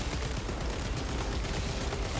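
Sniper SMG gunfire in a video game crackles as a dense, continuous burst of rapid shots, fairly faint and steady across the short stretch with no pauses and no voices.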